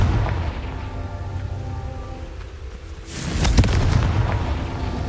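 Confringo blasting spell in a Harry Potter video game, a sudden booming explosion burst partway through, close and loud over a rumbling crackling game background.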